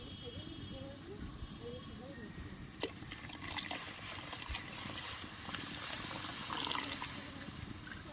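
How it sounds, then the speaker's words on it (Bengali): Milk simmers in a wok for peanut payesh, a soft steady hiss and faint bubbling with a few small clinks and taps, fairly quiet and continuous. "তো আমার দুধেও জাল এসে গেছে।"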